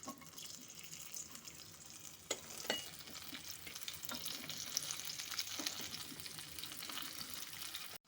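Carrots fry in oil with dried and green chillies in a pan, making a close, steady sizzle with occasional scraping stir strokes and a brief louder clatter near the end.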